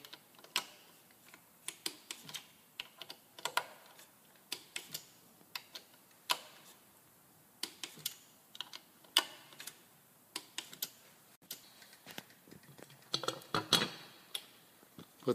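Clutch cover bolts on an AIM VP variable pressure clutch being tightened in a star pattern with a torque wrench to 8 foot-pounds, a run of sharp dry clicks and ticks in uneven bursts, close and fairly quiet, with no talking.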